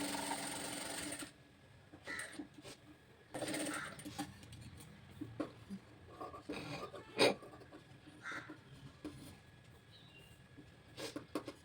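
A sewing machine stitches a princess-cut blouse in short bursts of fast whirring, separated by pauses and small handling clicks, close and fairly quiet.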